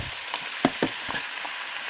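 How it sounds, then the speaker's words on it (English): Onions, peppers and celery fry in a pan, giving a brief close sizzle with a few light stirring clicks and scrapes. "Now I'm going to throw in the onions and peppers and celery."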